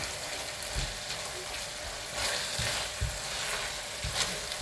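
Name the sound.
lamb mince keema being fried and stirred in a pan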